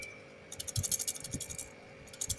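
An old, faulty refrigerator compressor relay from a Samsung fridge is shaken by hand, giving bursts of light, rapid, close rattling clicks, with a steady faint hum underneath.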